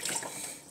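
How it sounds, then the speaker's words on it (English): Warm water pouring from a tap onto fish in a kitchen sink, a steady close splashing rush that lasts under a second. "I'm just adding warm water on it."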